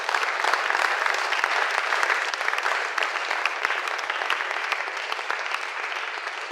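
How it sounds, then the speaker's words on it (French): Church congregation applauding the Lord at a worship service, a dense, steady wash of clapping from many hands that fills the room without a break. "est-ce qu'on peut acclamer le Seigneur?"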